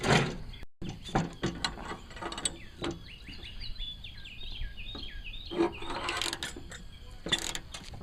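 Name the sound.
ratchet with deep socket loosening 9/16 bolts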